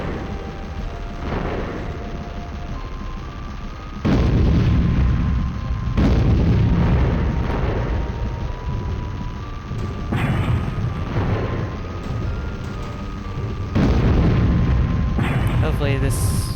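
Repeated heavy explosions and booming blasts in the Storm Winds 1.5 video game, several loud bursts arriving every couple of seconds over continuous rumbling, with a voice talking over them.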